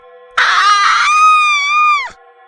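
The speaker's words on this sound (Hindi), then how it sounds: "चुड़ैल रिंकी के बिल्कुल करीब आ जाती है कि अचानक वो चीख पड़ती है" A witch's shrill, sustained scream used as a horror-story sound effect, bursting in suddenly, holding loud and piercing for under two seconds, then sliding down in pitch and cutting off.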